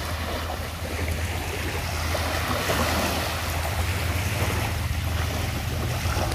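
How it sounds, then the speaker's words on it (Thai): Steady ocean surf at a seaside seafood restaurant washes in as a continuous loud roar, with gusts of wind buffeting the microphone throughout and no talk. "เสียงคลื่นนี่ได้ยินชัดมาก"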